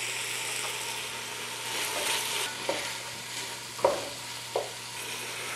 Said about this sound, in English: I've got a whole chopped onion, coarsely chopped, and it goes in on top of that.